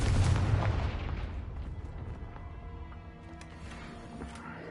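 A Confringo fire spell bursts in Hogwarts Legacy as one loud, close explosive blast that fades into a long rumbling decay with a lingering tonal hum.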